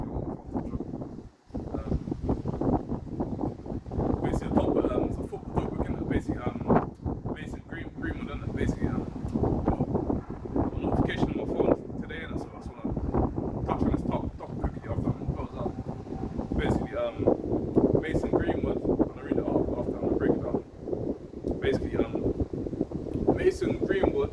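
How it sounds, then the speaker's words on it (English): Strong outdoor wind buffets the microphone in continuous gusty rumbles and bursts, loud and close, with a voice talking over it. "This wind's going crazy."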